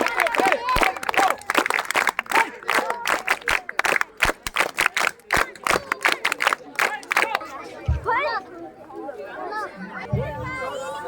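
Enthusiastic audience at a secondary school mathematics championship in Oxford claps in a loud, irregular burst that fades out midway, with cheering and chatter running through and continuing after.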